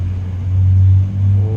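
A police car passes close by with a deep, steady engine rumble that swells and eases slightly as it goes. No siren and no voices are heard.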